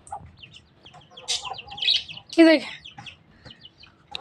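A hen clucks in short bursts, one louder squawking call standing out, while a person speaks briefly nearby.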